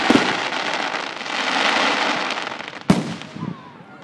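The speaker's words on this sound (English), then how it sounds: "Two fireworks hit each other on the street." Fireworks explode outdoors on a street in Bellingham, a dense crackling hiss with a sharp loud bang near the end followed by fizzing pops, close and loud.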